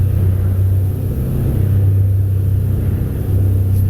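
A 250 hp outboard on a Defiance boat on the San Juan, throttled back from wide open to about 4,000 RPM, gives a steady close droning engine hum with low rumble and rushing water, continuous and loud with no talk.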